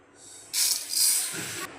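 Mung dal roasting in a pan, a brief sharp hiss that swells suddenly, holds for about a second, then cuts off, close and alone.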